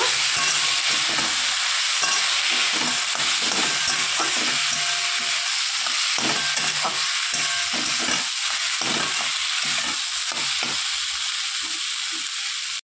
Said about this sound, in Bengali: তো পনিরটা দিয়ে আমি একটু নাড়াচাড়া করে নিয়েছি